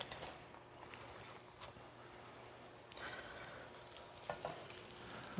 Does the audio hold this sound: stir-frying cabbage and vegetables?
yes